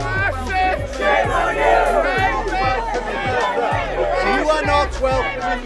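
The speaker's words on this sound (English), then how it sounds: "to jeers and booing." A crowd at a Brexit Party event jeers and boos: loud, sustained massed shouting and voices, with deep rhythmic thumps recurring throughout.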